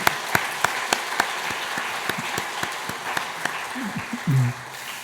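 A church congregation gives a welcoming round of applause during a Sunday service, a wash of many hands with sharp individual claps standing out, fading near the end as a voice briefly murmurs.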